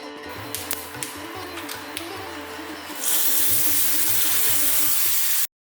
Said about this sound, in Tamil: நெய்யில் கடுகு, பெருங்காயம், காஞ்ச மிளகாய், ஜீரகம் சேர்த்து தாளிச்சிட்டு ரசத்தில் சேர்த்துக்கோங்க